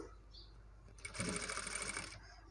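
A sewing machine stitching a border around a blouse neckline, one close, rapid run of stitching lasting about a second before stopping.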